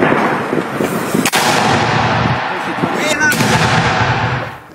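A mortar round is fired during urban fighting in the battle of Bakhmut, with a sharp, loud blast near the start and another about two seconds later over a constant rumbling battlefield din.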